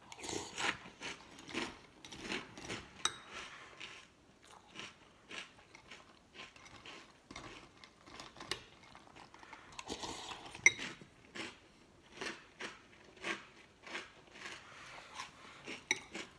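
Close, quiet crunching of Millville Peanut Butter & Jelly Puffs cereal, an Aldi brand, in irregular bites and chews with short pauses between them and no talking.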